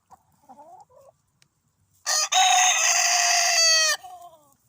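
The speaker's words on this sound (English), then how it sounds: "Okay, you heard it from the rooster." A rooster crows once, loud and close, a long strained call after a few faint clucks, with quiet clucking trailing off afterward.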